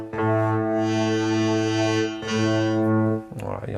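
Synthesizer notes played on an Expressive E Touché controller with a reverb effect, two sustained buzzy tones with a short gap between them, ending in a brief blurred tail. Loud and close, with no talking.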